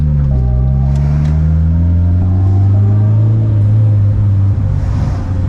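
A turbocharged VTEC car engine accelerates while driving, a loud, steady drone that climbs in pitch through the gears, with a brief dip as it shifts, heard up close from inside the car.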